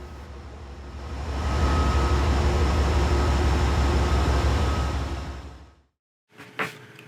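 An Amtrak Vermonter train hauled by a diesel locomotive rumbles past, growing loud and then holding steady before cutting off abruptly, followed by a brief faint knock.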